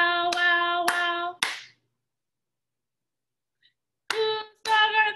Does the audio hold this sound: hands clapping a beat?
yes